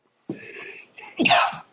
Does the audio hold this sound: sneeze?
yes